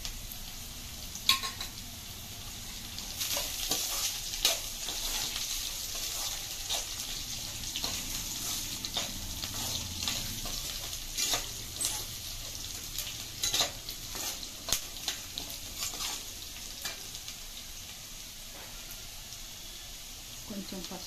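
Cashews and curry leaves sizzle in hot oil for semiya upma, a steady close frying hiss broken by sharp crackles and the scrape of stirring, with no one talking.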